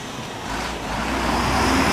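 A short cube truck with a Caterpillar engine passes on a downtown Montreal boulevard, a broadband roar of engine and traffic that swells steadily louder as it approaches close by.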